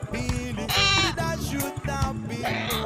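A goat bleats repeatedly and loudly at close range, a series of wavering, quavering calls back to back.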